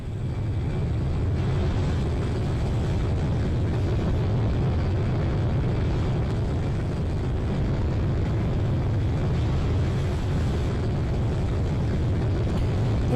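Airplane engine in a flight simulation game, a constant droning roar that stays loud and even throughout, with no talk over it.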